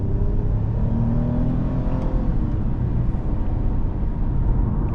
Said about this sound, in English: you hear that, the transmission sounds